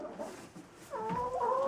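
Laying hens clucking in a winter coop at feeding time, a few soft low clucks at first, then louder sustained drawn-out calls from several birds close by, no talk.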